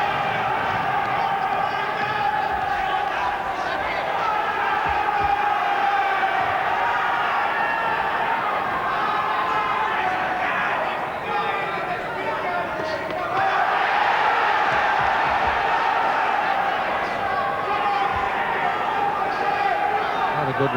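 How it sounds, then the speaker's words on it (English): A boxing crowd at the Wilf Gentzen versus Gary Jacobs fight roars steadily throughout, a dense sustained cheer that swells again near the end, with a commentator's voice running over it. "the crowd now really rising to this. They're spurring Jacobs on."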